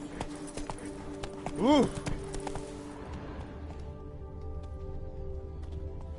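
Rhythmic clip-clop of the horse Roach's hooves at a gallop in The Witcher 3, set over steady game ambience, with a short voice exclamation and a brief whinny-like cry near the middle.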